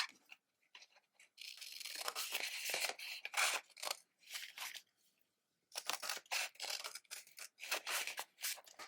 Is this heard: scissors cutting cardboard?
yes